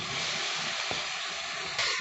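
Eggplant slices fry in hot oil for neem begun, giving a close, even hiss that runs steadily throughout with no voices.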